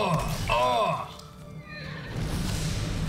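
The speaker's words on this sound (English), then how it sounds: "That's horses!" Horses neigh loudly in the Blood of Zeus animated series, a sharp whinny near the start followed by another fainter whinny, mixed with dramatic soundtrack noise.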